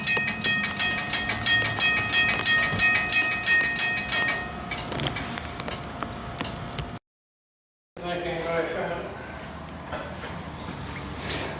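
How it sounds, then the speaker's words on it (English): An old railroad wigwag crossing signal operates: a rapid metallic ringing bell clangs steadily for several seconds, then stops; after a brief silence, faint mechanical clicking and low rumble follow. "This is the old wigwag at the Rosenberg Railroad Museum."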